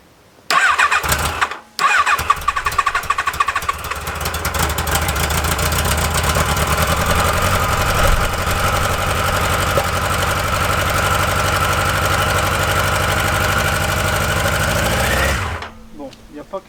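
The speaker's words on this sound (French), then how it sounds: "On va démarrer à froid au starter." A motorcycle engine is cold-started on the choke: a short cranking burst, then it catches and settles into a loud, steady, slightly uneven idle that runs for about fourteen seconds before cutting off.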